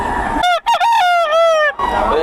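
A rooster crows once, loud and close, with a stretched, wavering call at a chicken market, set against a noisy background.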